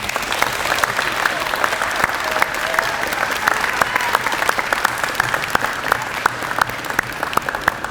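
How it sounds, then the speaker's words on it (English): Steady audience applause fills a press conference for an athlete's foundation and school partnership, dense clapping sustained for about eight seconds at a fairly even level. "Let us give Zion a round of applause this morning."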